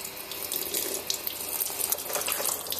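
A tank wash machine taking in water, a steady rushing stream of water filling the tank, moderately quiet and continuous with no talking.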